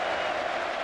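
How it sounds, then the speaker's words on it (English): Hearts fans in a football stadium applaud during a 2000 Edinburgh derby against Hibernian, a brief, even wash of distant clapping from the crowd. "Some applause from the remaining Hearts fans"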